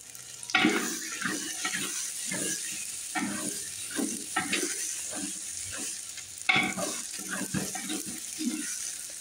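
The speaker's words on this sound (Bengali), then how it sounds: "এবার রেডি করে রাখা মশলাগুলো আমি ভেজে রাখা পেঁয়াজের মধ্যে দিয়ে দিচ্ছি। মশলাগুলো দিয়ে ভালো করে কষিয়ে নেব।" Spice mix frying with fried onions in a pan over a wood fire, for a mutton dish: a steady sizzle with repeated scraping stirs and clatters of a spoon, close and fairly loud, no talking.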